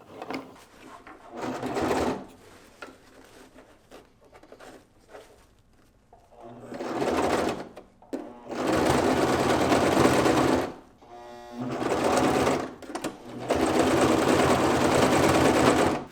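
A sewing machine stitches hook-and-loop keepers onto the inside of a bag, between a center loop and a webbing grab handle, running in several sustained close bursts with short pauses between, the clearest runs coming in the second half.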